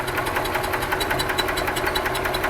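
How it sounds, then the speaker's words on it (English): A 2001 EZGO TXT gas golf cart engine with bad piston rings runs rough and backfires through the carburetor and exhaust, a close, loud, rapid rhythmic chugging with knocking pulses and no talk. "It's backfiring into the carburetor. And it's backfiring out the exhaust."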